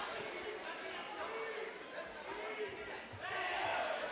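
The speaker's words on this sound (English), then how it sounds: "The crowd reacting to every single strike." Crowd noise from spectators at a Pakistan versus Iran martial arts bout, a steady roar of cheering and shouting that swells toward the end, with voices mixed in throughout.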